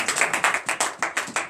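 Hands clap in a steady quick rhythm during a morning prayer service acclaiming Jesus, about a dozen crisp, close claps in a row with no talk over them.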